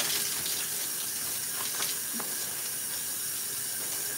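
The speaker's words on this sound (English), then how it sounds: "See, I'm still in the shower. Like, it's been 37 minutes of me running water." Shower water running steadily, a constant hissing spray close by with a few brief knocks and splashes, no talking.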